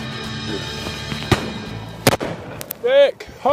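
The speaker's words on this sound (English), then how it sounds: "So you just shot a wonderful partridge." Muzzleloader shotguns firing at partridge on a driven shoot, with a loud sharp report and a second distant bang amid outdoor ambience, followed by raised voices calling out.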